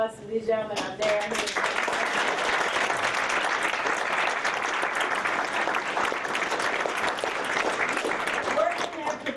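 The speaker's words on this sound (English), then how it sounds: "can you give a round of applause to these gentlemen up there?" An audience at a community gathering gives a round of applause for guest gentlemen, loud sustained clapping with some cheering, and a voice heard briefly at the start and end.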